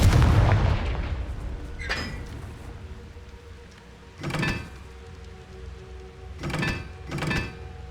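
Confringo blasting spell from Hogwarts Legacy firing off in four sharp, booming bursts, one early, one mid-way and two close together near the end, over a low steady background.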